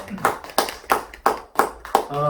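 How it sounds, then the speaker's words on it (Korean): Congregation in a Korean church on Easter Sunday gives a few strong, rhythmic claps together, about five evenly spaced beats, with a voice heard briefly at the end. "우리에게 은혜를 주신 하나님께 큰 박수로 영광 돌려드립시다."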